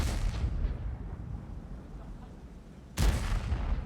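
Tank cannon shots in the video game World of Tanks during a competitive tournament final, a booming blast whose rumble decays over a few seconds before a second sharp, loud shot.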